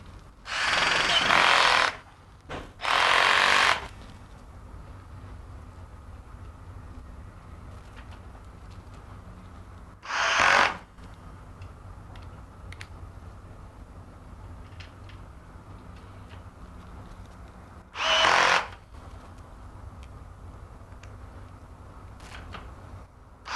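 Power tool driving screws into the foot plates of a Red Sea MAX S-Line aquarium stand, in three separate whirring bursts of about a second each: two close together at the start and one each near the middle and end, over quiet room background.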